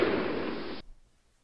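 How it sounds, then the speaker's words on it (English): An AK-47 assault rifle sound effect: one short, loud, harsh blast of gunfire lasting under a second, cut off abruptly, with a faint tail after it and nothing else around it. "An AK-47 assault rifle going off."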